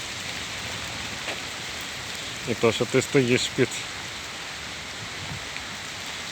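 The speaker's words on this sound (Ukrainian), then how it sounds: "А дощ то осілівся." Rain falling on a city street in Kyiv, a steady dense hiss throughout, with someone speaking briefly over it in the middle.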